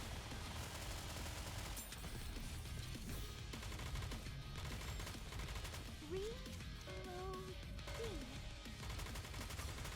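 Sniper fire in a multiplayer video game: a steady, dense stream of sharp shots and bursts under a loud, continuous game soundtrack, with brief synthetic tones partway through.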